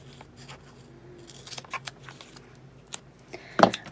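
Scissors snip through paper for a paper candy craft in a run of short, crisp cuts close by, with a louder rustle of paper at the end.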